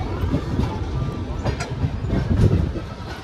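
A train at Nagpur railway station, rumbling steadily with rhythmic wheel clatter and a few metallic clicks, loud and close.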